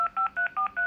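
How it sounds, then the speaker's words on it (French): Telephone keypad dialing tones while calling a furniture and appliance store in France: five crisp, evenly spaced dual-tone beeps, loud and close, with no voices. "Donc là, on va téléphoner chez but."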